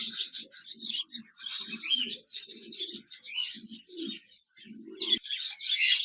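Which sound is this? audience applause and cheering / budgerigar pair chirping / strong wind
budgerigar pair chirping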